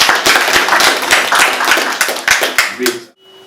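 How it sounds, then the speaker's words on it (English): An audience at a broadcaster's live conversation event claps in loud, close, fairly rhythmic bursts that stop abruptly near the end, leaving a quiet tail. "Can you clap for KBC?"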